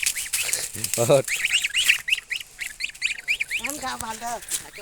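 Domestic geese honk in quick nasal bursts alongside high, thin peeping from goslings, close by, with a voice speaking briefly in between.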